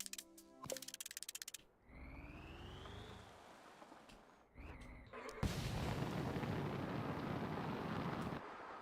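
Rocket firing in the video game Mars First Logistics: a short clicking burst, then a rising whine, and finally a loud, sustained roaring thrust that holds steady for several seconds, with no talk.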